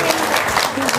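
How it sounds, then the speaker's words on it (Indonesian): Brief burst of audience clapping at a religious talk in Indonesia, loud, dense and close, lasting about a second alone without talk. "Tepuk tangan dong."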